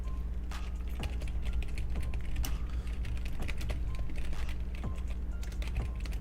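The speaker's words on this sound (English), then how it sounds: "Look, keyboard ASMR." Rapid clicking keystrokes on a computer keyboard, sounding close and steady, rattle over a constant low electrical hum, with no one speaking.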